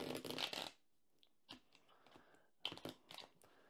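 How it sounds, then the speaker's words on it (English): Tarot cards are shuffled in a quiet room: a dense riffling burst at first, then scattered soft crisp card slides and taps, close and faint. "So we're going to shuffle up and see what we get."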